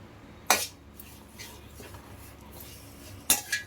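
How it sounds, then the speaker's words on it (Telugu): A metal spoon clinks sharply against a pan twice while sambar powder spices are dry-roasted, with soft stirring and scraping in between. "చూడు ఇలా వేయించుకోండి బాగా."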